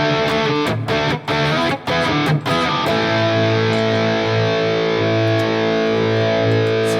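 Distorted electric guitar played through a Fractal FM9 amp modeler with a rock tone, loud choppy chords at the start, then a sustained ringing chord that lingers to the end.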